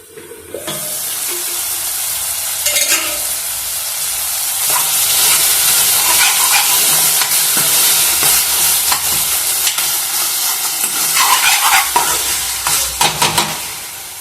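Ridge gourd peels simmering on low heat in a kadai while being stirred: a loud, continuous sizzle and hiss with scraping stir strokes throughout, no talking.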